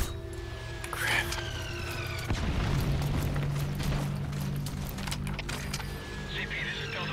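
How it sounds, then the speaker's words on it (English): Mortar explosions in the video game Metal Gear Solid V: The Phantom Pain, one heavy boom standing out amid low rumbling and game sounds, with voices talking over much of it. "Stop firing the mortar!"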